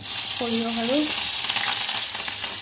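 Mustard paste frying in hot oil in a wok, a steady broad sizzle running throughout, with a brief tonal clink partway through.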